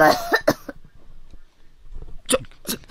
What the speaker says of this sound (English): These were wet, productive coughs, and spit was shooting out of Miss Yui's mouth with each one.